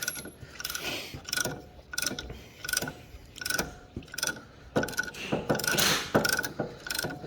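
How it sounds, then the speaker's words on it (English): A brake pad spreader ratchets caliper pistons back during a rear brake job on a 2017 Nissan 370Z with the sport brake package, giving repeated clicking bursts in a steady rhythm, close and clear with no talk. "with the pad spreader, I'm still going to have the wings out. I'm just going to hold them as I tighten them. And then what we're doing is we're spreading the actual pistons back"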